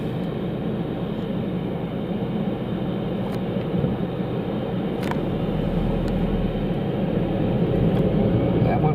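A Lufthansa jet on its takeoff run at Munich airport gives a loud, steady engine roar that builds gradually, with a deep rumble swelling near the end and a few faint clicks over the top.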